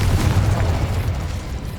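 A Confringo fire-blast spell from the video game Hogwarts Legacy detonates as a loud, dense, low booming explosion that rumbles steadily for under two seconds.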